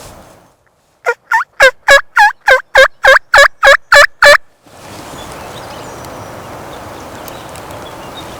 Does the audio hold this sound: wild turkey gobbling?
yes